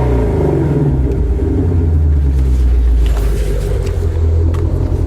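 A 5.2-liter flat-plane crank 526-horsepower V8 in a Ford Mustang Shelby GT350 revs loudly nearby, a deep throbbing rumble that rises and swells in pitch, with no talking over it.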